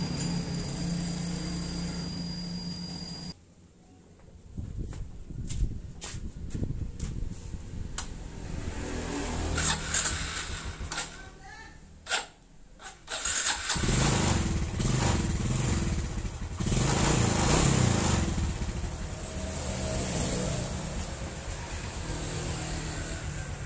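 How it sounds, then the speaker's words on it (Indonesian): A Suzuki Smash (Shogun SP125) motorcycle engine starts after a few mechanical clicks and then idles steadily at close range, a continuous running drone with no talking. "untuk motornya sudah hidup ya"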